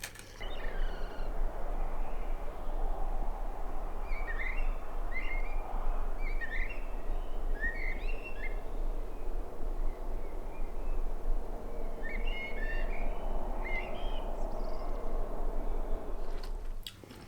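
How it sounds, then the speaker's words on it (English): Birds sing through an early dawn chorus at 4:30 a.m. on a cold morning, scattered chirps and short phrases coming from some distance over a steady low rumble. "Listen to the birds as the dawn chorus was starting."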